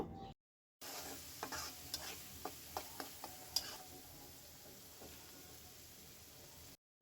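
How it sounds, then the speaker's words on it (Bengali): Chopped green chili frying with onion and garlic in a pan, a soft steady sizzle with a few light spatula taps against the pan, close and quiet, with brief gaps of silence at the start and end. "এখন এই কাঁচামরিচ কুচিটাকেও খুব ভালোভাবে পেঁয়াজ রসুনের সঙ্গে ভেজে নেব"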